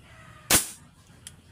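One sharp, loud crack from a Valente CO2 airgun, close by, with a quick decay and a faint tick afterward against quiet background.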